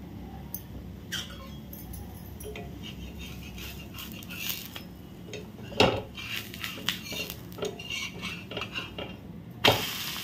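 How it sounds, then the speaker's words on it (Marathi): A metal lid lifts off a pan and a grated-potato pancake is flipped, with clinks and scrapes of utensils on cookware, two sharper knocks standing out over a faint background hum. "आता मी झाकण काढून ते उलटून घेते."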